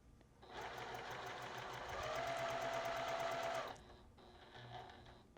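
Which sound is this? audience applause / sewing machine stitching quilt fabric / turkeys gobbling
sewing machine stitching quilt fabric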